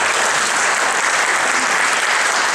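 Audience applause at a talk on the 500th anniversary of Magellan's voyage, a dense, even burst of clapping from a room full of people, loud and continuous with no voices over it.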